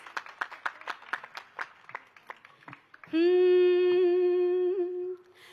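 An audience at a Hindi poetry recitation by Sonal Jain claps for about three seconds in a loose, uneven patter, then a loud, steady held tone abruptly takes over and lasts nearly to the end.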